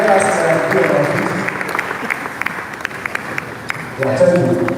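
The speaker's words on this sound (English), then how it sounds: "let us put our hands together for our honorable minister" Applause from a hall audience greeting an honorable minister at an educational conference, a steady wash of clapping under a speaker's voice on the public address, swelling again near the end.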